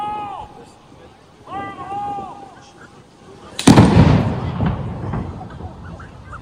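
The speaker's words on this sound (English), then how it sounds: "That was some sort of ordinance from the bomb squad to render whatever the package was" A bomb squad explosive charge detonating a suspicious package goes off as one sharp, loud blast followed by a decaying rumble, preceded by quieter background sounds including a few tonal chirps.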